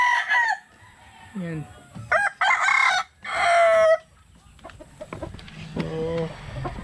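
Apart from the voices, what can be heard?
hatch gray chickens clucking and crowing in coop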